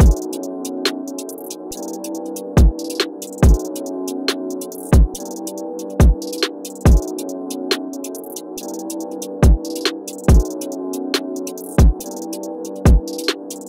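A full UK drill beat plays alone, with sharp sliding 808 bass hits and punchy kicks landing in a steady, syncopated pattern over sustained dark melodic layers.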